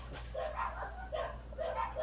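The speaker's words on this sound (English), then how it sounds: "Okay, we got the dogs going off" Several dogs bark in repeated bursts at a moderate distance, a steady low hum running beneath the barking.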